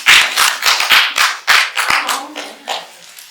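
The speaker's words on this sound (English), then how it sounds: "You guys give Mary, Miss Mary, a round of applause." A few people clap for Miss Mary at a small business mindset talk. Separate, uneven bursts of claps come close and fairly loud, then thin out toward the end.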